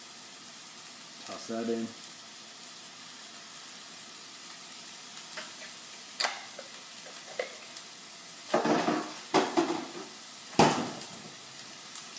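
Minced garlic hits a pan with chicken, giving bursts of sizzling, with clattering pan and utensil knocks near the end. Someone briefly speaks over it.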